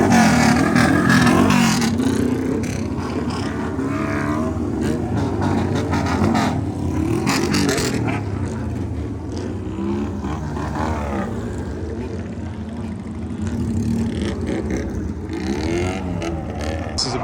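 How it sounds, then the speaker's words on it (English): Bosozoku motorcycles roll into a Sunday morning car meet in Japan, their engines roaring and revving loudly and continuously, with the rumble swelling and fading as they pass close by. "We got the Bosozoku bikes coming in."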